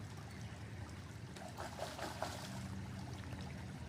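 Animals splashing in a shallow stream near a bridge, heard as soft irregular splashes and trickling water over a steady running-stream background, fairly faint and distant.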